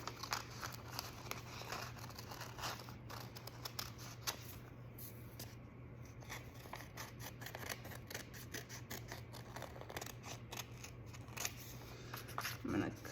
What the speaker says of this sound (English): you're gonna take a pair of scissors and you're going to cut along that line